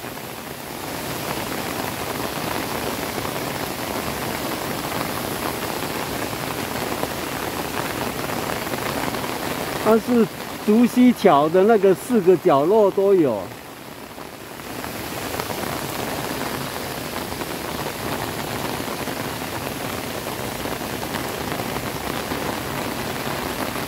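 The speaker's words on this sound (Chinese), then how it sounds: "这雨越下越大哈" Heavy rain pours steadily as a dense, continuous hiss in Tainan near artificial waterfalls, with someone speaking briefly in the middle over the downpour.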